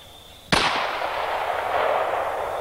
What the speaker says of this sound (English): All right, let's shoot it again.